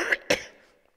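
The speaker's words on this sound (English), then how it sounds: "sorry about all the coughing and stuff, I just can't help it." Two quick, close coughs with a throat-clearing quality from a speaker at a university talk, the second louder and trailing off into silence.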